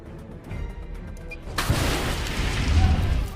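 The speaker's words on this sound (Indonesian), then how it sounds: "akhirnya ruang brankas meledak seketika." A vault room explodes with a sudden loud blast partway through, followed by a sustained roaring rumble and debris-like crackle that continues to the end.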